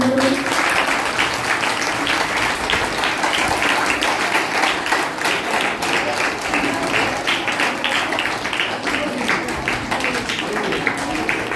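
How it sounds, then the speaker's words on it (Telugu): A congregation claps at a Christian wedding in a meeting hall in Yadiki, Anantapuram, a long, even burst of many hands applauding together, close and steady for over ten seconds with light chatter underneath. "కట్టు చప్పట్లు కొట్టండి."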